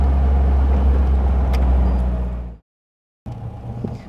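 A Caterham Seven sports car rumbles in reverse with a low, loud engine drone and mechanical whir, dropping into a brief silent gap before the motor noise resumes.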